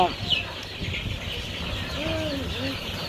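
Thirty-day-old tiger chicken chicks cheep in short, high-pitched peeps, several birds close by, over a low background murmur.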